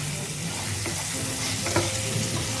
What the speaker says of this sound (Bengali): এবার ওই একই তেলে দিয়ে দিচ্ছে আলুর টুকরো, আর দিয়ে দিচ্ছে এর মধ্যে সামান্য নুন দিয়ে ভালো করে ভাজা করে নেব।